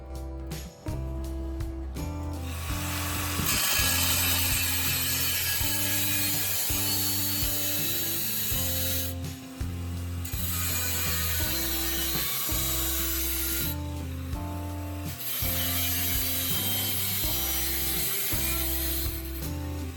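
A steel fire extinguisher cylinder is cut in half with a power tool, giving a loud, continuous grinding rasp with brief pauses. A rhythmic mechanical drone runs underneath throughout.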